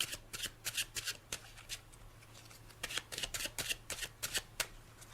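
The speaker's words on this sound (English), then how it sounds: "The GW Hunter shuffle retains the order of the entire deck." A deck of playing cards being shuffled by hand with the GW Hunter shuffle, giving a rapid series of crisp riffling and slapping bursts, close and fairly quiet, with no talking.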